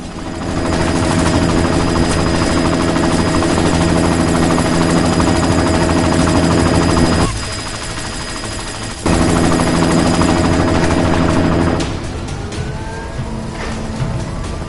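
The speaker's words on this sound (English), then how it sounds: "You've got to stop that chopper." A helicopter in a shooter video game drones with a steady, loud rotor and engine roar, briefly dropping away mid-way before returning, with gunfire-like bursts mixed into the dense game soundscape.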